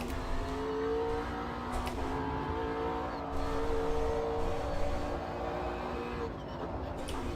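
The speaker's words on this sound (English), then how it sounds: "A lot of tyre noise coming through the car." Race car in the Automobilista 2 racing game, with a steady engine drone and sustained tyre noise rolling throughout, rising and falling slightly as the car is driven, with no talk.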